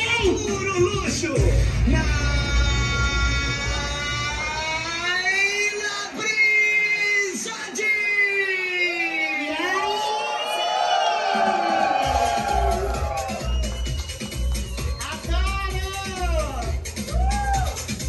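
A concert audience shouts, whoops and cheers loudly and continuously at the opening of a singer's 30-year career anniversary show, with music and an amplified voice mixed into the crowd roar.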